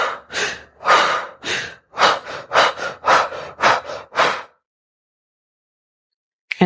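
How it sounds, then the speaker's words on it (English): A couple performing synchronized fire breath, a rapid tantric breathing exercise: about a dozen forceful, rhythmic breath bursts, loud and close, then silence and a brief final breath. "So synchronized fire breath."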